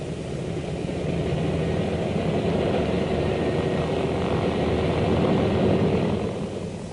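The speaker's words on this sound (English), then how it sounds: "the planes raced back to their base with their high-priority cargo" WWII photo reconnaissance planes fly back to base with a steady, continuous propeller-engine drone, loud and unbroken throughout with no other sounds.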